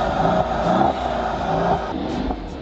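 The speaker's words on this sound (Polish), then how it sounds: "Weź trochę pogazuj" Parked car revved up on the spot, with the engine note rising and falling in a few uneven bursts close to the listener and no talking.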